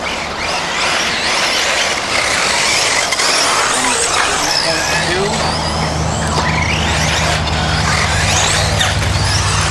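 A Tekno EB410 RC car with a HobbyWing ESC drives around, its electric motor whining and rising in pitch under a wash of outdoor noise, while a person speaks throughout.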